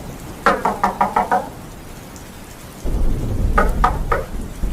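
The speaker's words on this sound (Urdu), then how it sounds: "اچانک کوئی باہر سے ونڈو کھٹکھٹانے لگا۔" Five quick knocks on a car window, then another short burst of knocking, with a thunderstorm's heavy rain roaring steadily underneath; no voices.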